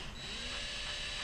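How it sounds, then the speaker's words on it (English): A small power drill with a small bit whines steadily for a brief moment while drilling a hole in a fishing popper, close and fairly faint. "take your small drill bit and you just want to put a hole in it"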